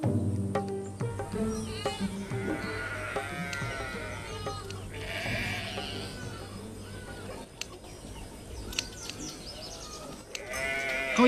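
A flock of sheep bleats in overlapping calls from near and far across a pastoral scene, with scattered bird and insect sounds and faint background voices.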